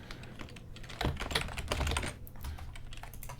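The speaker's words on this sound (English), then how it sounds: "Apologies for the keyboard." Fingers clatter on a computer keyboard in a quick, uneven run of close key clicks, with a brief denser flurry in the middle and no voices.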